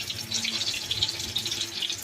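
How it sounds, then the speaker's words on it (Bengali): Eggs frying in hot ghee, a continuous bright hiss and crackle of sizzling fat close by, steady with small fluctuations and no voices. "ডিমগুলো এবার ভেজে নিচ্ছি।"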